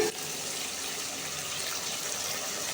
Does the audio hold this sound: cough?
no